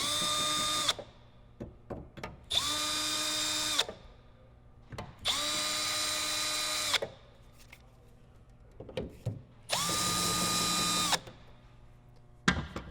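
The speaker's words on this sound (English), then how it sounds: "you can use your drill to mark your centers" A power drill whines in several loud bursts of a second or two, marking hole centers for bed channel supports on a Toyota Tacoma, with short pauses and small clatters between.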